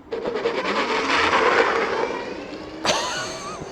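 A Wired Predator 2025 electric bike, rated at 9000 watts and 60 mph, launches at full power with a rising motor whine that builds over a few seconds, then a sharp clatter or thump near the end.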